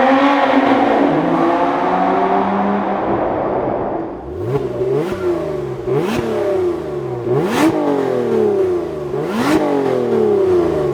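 Car exhaust revving hard with the exhaust valve held open, running almost straight-pipe past the catalytic converters: a loud sustained roar, then four or five sharp separate blips that rise and fall back, close and clear with no talking.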